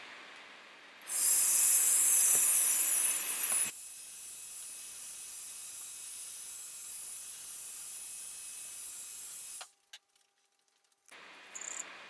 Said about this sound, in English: I've actually put some gold spray paint into a cup.